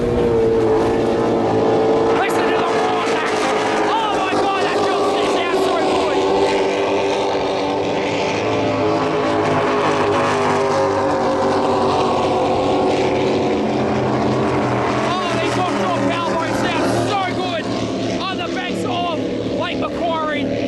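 Racing powerboats roar past while rounding turns seven and eight onto the main straight at a Windsor, Taree or Lake Macquarie event, loud whining engines rising and falling with Doppler sweeps, several boats overlapping.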